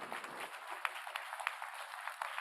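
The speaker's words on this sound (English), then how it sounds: "let's give our president a round of applause" Faint, distant applause from an assembly crowd at a tribal gathering, a thin continuous patter of clapping with a few sharper claps standing out.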